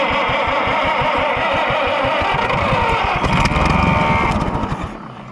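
An old, neglected Oliver 60 tractor's gas engine cranks and sputters on starting fluid, a rapid loud chugging rhythm that catches and rises briefly into a rougher burst before fading, heard close and alone.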